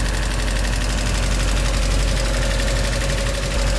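A Mazda Miata engine idles loud and close, a constant rumbling drone with a faint rhythmic lifter ticking throughout.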